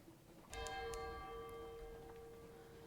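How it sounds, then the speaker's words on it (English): Distant bells toll in the Sunless Sea game, a sustained ringing tone with shimmering overtones that begins with a couple of struck onsets and then slowly decays, moderately faint over a low background rumble. "Distant bells indeed."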